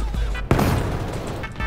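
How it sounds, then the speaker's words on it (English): A grenade blast in the bank-heist shooter Payday 3: a sudden loud boom followed by a dense, ringing rumble that decays over about a second, with faint background game noise before it. "I just grenaded myself."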